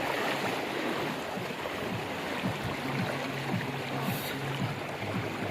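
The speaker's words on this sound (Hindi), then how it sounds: "इतना तेज़ पानी है।" Swift floodwater surging through a mountain area on a motorcycle journey, a steady dense rushing wash at moderate loudness with a faint low hum beneath and no speech.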